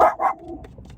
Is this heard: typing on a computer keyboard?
no